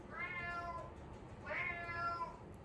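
A cat meows twice, close and fairly soft, each call a drawn-out whine with a pause between; no talking.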